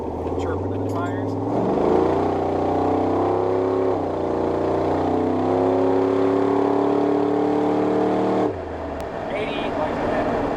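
An LS7-swapped Chevrolet S10 pickup engine revs under throttle, a loud, close V8 roar rising and falling in steady surges before cutting back near the end, with a voice talking over it.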